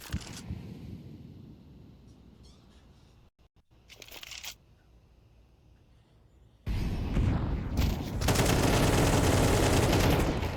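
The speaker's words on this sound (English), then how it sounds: "A couple HE grenades on this CT side." HE grenades and gunfire in the Counter-Strike video game: quiet stretches with a few bursts, then loud sustained explosive blasts and rapid fire filling the final seconds.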